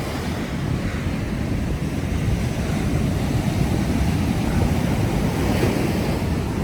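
Pacific Ocean surf rolling onto Malibu Beach, a steady, full-bodied roar of breaking waves with gusting wind noise buffeting the microphone throughout, no voices.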